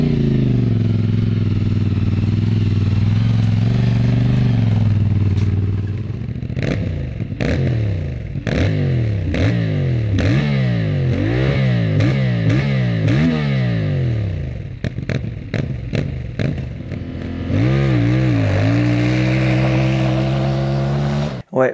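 CF Moto 450 MT twin-cylinder motorcycle engine revving loud and close, several sharp rising and falling blips in quick succession, then a steady higher idle toward the end.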